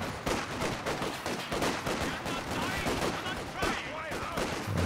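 Rattling bursts of rifle and machine-gun fire crackle through a large battle in the video game Company of Heroes 2, dense and continuous with occasional heavier thumps.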